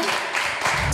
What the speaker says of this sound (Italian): Un applauso per mia sorella